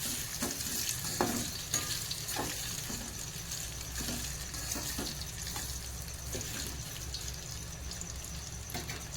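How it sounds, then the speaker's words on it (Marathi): Amla (Indian gooseberry) fries in hot oil with a continuous soft sizzle, a gentle crackling hiss and occasional stirring taps, close and fairly quiet. "तेल गरम झाल्यावर त्यामध्ये आवळा टाकायचा आहे"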